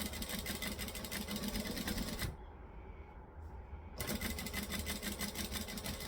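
A home sewing machine runs steadily while stitching a small zipper, a fast continuous mechanical buzz that stops briefly near the middle, then resumes at the same even pace.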